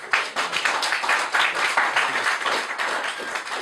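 An audience at a house debate gives a round of applause, dense clapping sustained at a steady level for the whole stretch, with no voices standing out above it.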